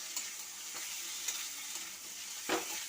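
Potato curry frying in a pan with a constant quiet sizzle and a few scraping stirs, the last one louder near the end.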